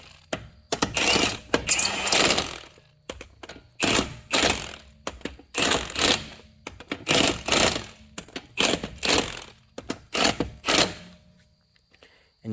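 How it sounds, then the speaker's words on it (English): Impact wrench running lug nuts onto a Hyundai Sonata front wheel in a star pattern: about eight loud, close bursts of rapid rattling hammering, each lasting roughly half a second to a second, separated by short pauses. "we're not tightening them with the impact. We're just running them in."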